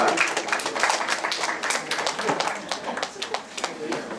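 A small group in a church claps for a few seconds, uneven and fairly quiet, with scattered individual claps and a voice faintly underneath.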